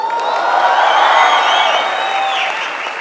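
An audience applauding and hooting at a live talk event, a continuous roar of clapping with whoops and whistles on top, loud and sustained before easing slightly at the end.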